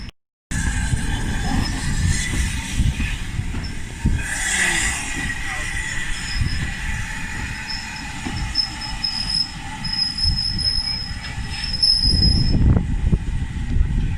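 A diesel locomotive on the Mid Hants Railway rumbles steadily nearby as it runs round its train, its engine droning with some wheel squeal and metallic rail noise, while people talk faintly in the background.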